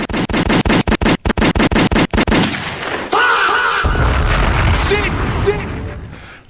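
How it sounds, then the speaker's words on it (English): A rapid burst of sharp, loud gunshots in quick succession, followed by a booming rumble and crowd-like noise fading out. "Let off the gunshots."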